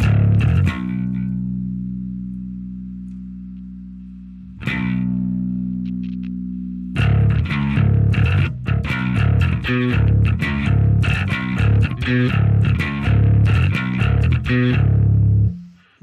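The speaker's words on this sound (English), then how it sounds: "Can we get a distortion?" A bass guitar runs through a distortion effect in Line 6 Helix Native software. Two long, gritty held notes ring and decay, then a loud run of choppy, rhythmic distorted bass notes follows before a sudden stop.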